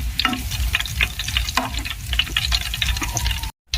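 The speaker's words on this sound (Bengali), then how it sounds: "পিঠাগুলোকে আমি খুব বেশি লাল করে ভাজবো না" Pitha cakes fry in hot oil with a steady, dense sizzle and crackle, broken by a few brief stirring scrapes and a short silent gap near the end; close and fairly loud, with no talking.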